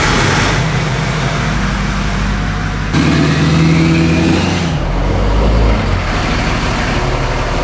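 A 2007 Dodge truck with a 5.9 Cummins diesel runs close by, a steady loud idle rumble that shifts in tone partway through, with a brief rev near the end.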